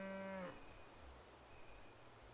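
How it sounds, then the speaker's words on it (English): A cow in the countryside gives a single low, drawn-out moo that ends abruptly, followed by faint ambient quiet with soft distant tones. "Somewhere far off, a cow moos lazily, its voice low and comforting."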